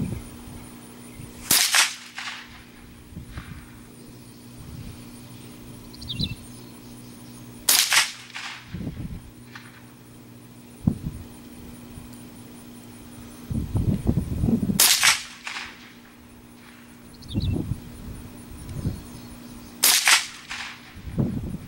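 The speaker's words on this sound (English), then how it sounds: "let's just do a 5-shot group," A Savage 64F .22 LR rifle fires a five-shot group as four sharp, widely spaced cracks, each followed by quieter handling clicks and rustles, heard alone outdoors.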